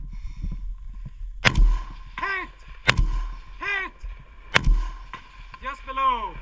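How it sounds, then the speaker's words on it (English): Gunshots at an outdoor SRA shooting match in Switzerland, fired at small target arrays from a trench position: three sharp, loud reports spaced about 1.5 seconds apart, each followed by a ringing target hit, over light background noise. "on the left shooting position we take the next 6 hits on the third target array from the left"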